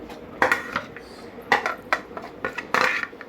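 An oiled pan is set down on a stovetop, with a handful of close, bright metallic clinks and clatters spaced unevenly over a few seconds.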